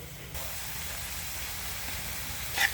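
Shrimp paste and tomatoes sautéing with onion in a pan, a steady bright sizzle and hiss running throughout at close range, with a slight flare near the end.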